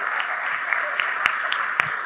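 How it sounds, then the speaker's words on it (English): Audience at an AI and innovation summit clapping, a thin, even patter of applause with a few sharper individual claps standing out, heard somewhat distant and muffled. "Big round of applause is required."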